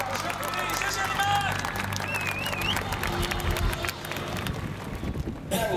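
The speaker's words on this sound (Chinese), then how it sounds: "掌声鼓励" Audience applause and cheering at a concert during the 2012 Miaoli National Day fireworks show: dense, steady clapping with scattered whistles and crowd voices, fading abruptly near the end.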